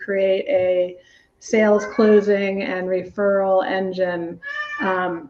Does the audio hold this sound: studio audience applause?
no